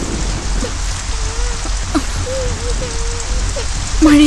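Rain pours down in a steady, dense patter, with a few brief, faint vocal tones sounding underneath.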